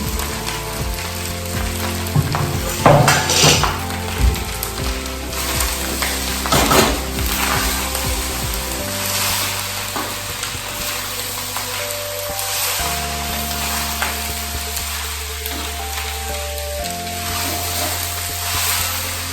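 Chopped broccoli sizzling and frying in a pan, a steady crackling hiss with several scraping stirs early on, while background music plays underneath.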